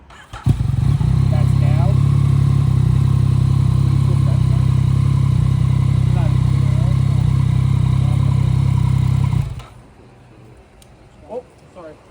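A 900cc Yamaha superbike engine runs loud and steady at a close idle for about nine seconds, then cuts off abruptly, leaving quiet background with a few brief words spoken.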